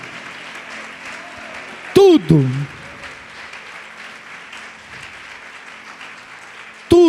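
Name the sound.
congregation applause in church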